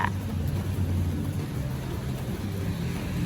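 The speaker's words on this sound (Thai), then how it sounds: "พายุเขาลาวอีกรอบ" A rainy-season thunderstorm in Laos brings a steady hiss of rain, with a low rumbling undertone running continuously throughout and no voices.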